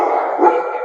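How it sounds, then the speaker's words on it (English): Dogs in a home bark as one loud, close yelping bark that lasts just under a second, with no voices over it. "Sorry, my dogs are going crazy."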